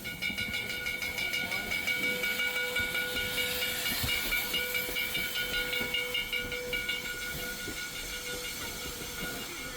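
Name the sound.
1880 steam train hissing and whistling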